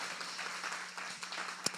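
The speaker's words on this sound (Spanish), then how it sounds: "Denle un aplauso al Señor." A church congregation claps and applauds during a service, a faint, steady patter of many hands in a large room, with one sharper clap near the end.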